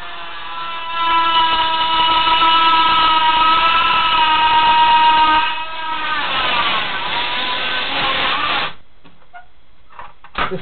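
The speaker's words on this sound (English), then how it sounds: "This Dremel tool does not like me." A Dremel rotary tool whines at a high, steady pitch that sags and wavers as it loads up on a Buzz Bee Toys Mech Tommy 20 dart gun being modded. It runs loud and close, then cuts out and leaves a few faint clicks.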